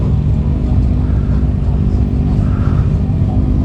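Motorcycles, mostly cruisers, riding past at a rider gathering, heard as a loud, steady, close engine rumble that fills the whole moment without letting up.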